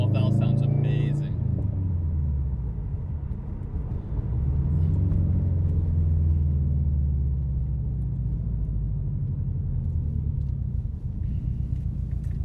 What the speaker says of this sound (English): I don't know if you hear that blow-off valve, but that blow-off valve sounds amazing